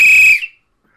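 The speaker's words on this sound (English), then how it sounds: "there's the whistle" A referee's whistle blown once, loud and shrill, during an Army-versus-Navy football game against Martians in a radio drama, cutting off sharply after a third of a second into silence.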